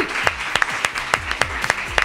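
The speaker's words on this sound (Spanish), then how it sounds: "¡Un aplauso!" Crowd applause with sharp, regular claps cutting through, a fairly close, steady clapping rhythm.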